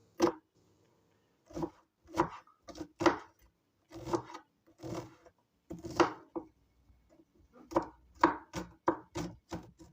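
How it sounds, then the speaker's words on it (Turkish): A knife chops onions steadily against a cutting board, with brief pauses between bursts of crisp, sharp strikes, close and fairly loud, with no talking. "Öncelikle şöyle soğanlarımı bir doğrayalım."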